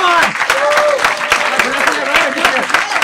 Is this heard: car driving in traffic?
no